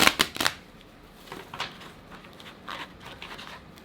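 Tarot cards being shuffled during a reading: a few quick papery riffles at the start, then scattered soft flicks and taps, close and fairly quiet, with no talking.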